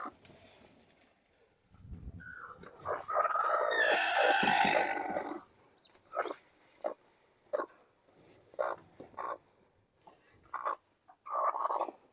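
A hen being set on eggs clucks and squawks close by, with a loud agitated burst followed by repeated short, spaced clucks.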